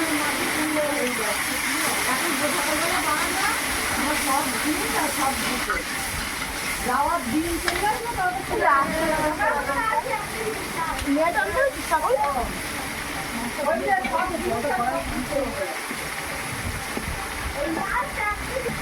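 Mutton spice paste sizzles and hisses in a pan as water is added, a steady bright frying hiss with bubbling and spattering throughout, under a voice talking.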